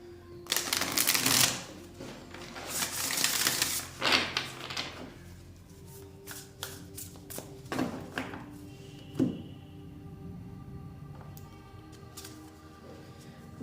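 Tarot cards are shuffled by hand in a series of crisp riffles and snaps, with louder bursts early on and quieter taps and flicks afterward, close to the microphone with no talking.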